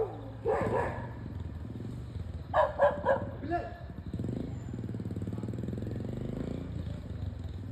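A dog barks in a quick cluster of three or four yaps at night on a forest road where elephants roam, set against a steady engine drone, with people talking nearby.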